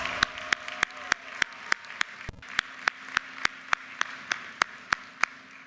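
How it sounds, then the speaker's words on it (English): Hand claps at a university commencement ring out in an even, steady beat, sharp separate strikes about three per second over a quiet room with a faint hum, sounding like a few people rather than a full crowd. "Give Brianna a round of applause."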